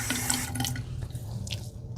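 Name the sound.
water wetting an exfoliating cleansing device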